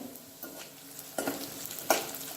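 Cumin, mustard seeds and turmeric fry in hot oil for a veg pulao, giving a steady close sizzle with a few louder scraping stirs breaking through.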